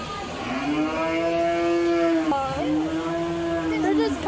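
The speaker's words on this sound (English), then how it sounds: "Look at the baby cow." Cattle at a fair's livestock barn give two long, loud moos in close succession, the first drawn out and the second shorter, with crowd murmur beneath.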